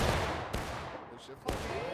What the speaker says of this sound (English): A nice volley there by Mr. Knight